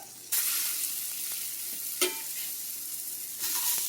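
Ground turkey burger patties sizzle steadily in a hot pan with a bright, hissing crackle, broken by a few sharp clatters and bursts as the patties are flipped; no one speaks.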